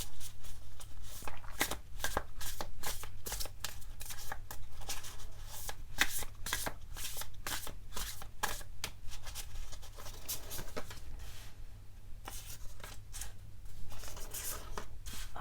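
A deck of tarot cards is shuffled close up, with rapid, steady riffling and flicking going on continuously over a low background hum.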